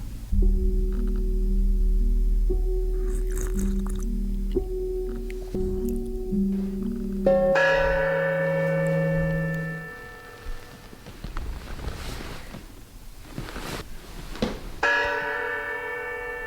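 A chiming bell plays a repeating ding-dong melody, then brighter ringing tones sound out and fade, returning once more near the end.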